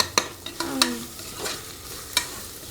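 Mutton pulao rice is stirred in a pan under a soft sizzle, with a few sharp spoon scrapes and clinks at close range and no speech.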